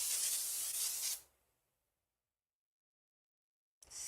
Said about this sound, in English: I like to keep a spray in my house, and I like to spray myself.